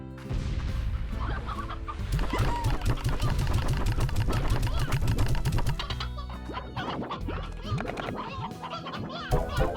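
Many chickens cluck and squawk in dense overlapping bursts throughout, mixed with game sounds and a voice talking over them in a Slime Rancher ranch scene.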